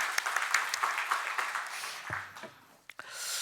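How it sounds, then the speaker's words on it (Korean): A congregation claps during a Sunday morning church worship service: dense, sustained applause from a large group fills the first two seconds, then thins out and fades into scattered claps and a quieter room. "우리 주님께 영광의 박수 올려드리겠습니다"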